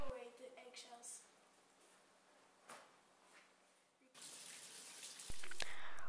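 Tap water runs into a kitchen sink during handwashing, starting faint, then a strong steady gush after a few seconds, with small clinks and bumps nearby.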